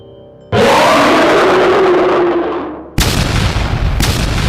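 Energy explosion effect for an audio drama battle at a fortress gate: a sudden loud roaring blast that swells and decays over two seconds, followed by a second harsh rumbling burst.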